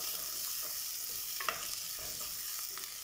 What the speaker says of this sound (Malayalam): ഇഞ്ചിയും വെളുത്തുള്ളിയും ചതച്ചതായത് കൊണ്ട് തന്നെ നന്നായിട്ട് മൂപ്പിച്ച് എടുക്കണം.